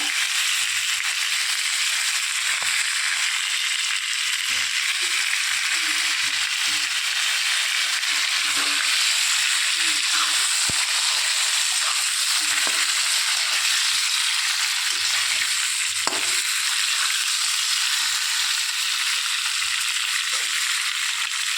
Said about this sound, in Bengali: আমটাকে প্রথমে ভেজে নেব সব আমগুলো ভেজে নিয়ে